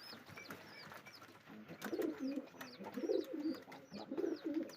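Pigeons coo in soft, repeated rolling phrases close by, with birds chirping faintly in the background.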